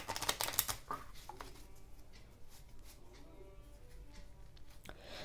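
A deck of playing cards being riffle-shuffled during a card trick, a quick burst of crisp fluttering snaps at the start followed by softer scattered card handling and taps, close and fairly quiet.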